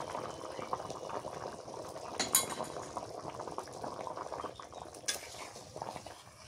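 A pot of curry with potatoes, dried fish and added water simmers at a soft, steady bubbling boil, with two brief metallic clinks of utensil on pot along the way.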